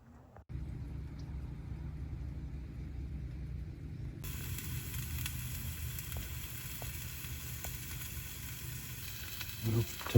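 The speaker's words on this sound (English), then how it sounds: "Tonight for dinner, we're having Blackstone Blackened Mahi and some small ground potatoes." Blackened mahi sizzling on a Blackstone griddle at an RV campsite, a steady close frying hiss with a low rumble beneath and a few small crackles, no voices.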